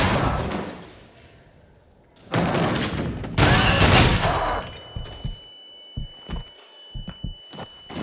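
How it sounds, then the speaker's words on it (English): Gunfire in the VR rollercoaster shooter Rush of Blood, with machine gun and shotgun blasts in loud dense bursts, then a string of sharper separate shots over a faint steady tone. "machine gun and a shotgun"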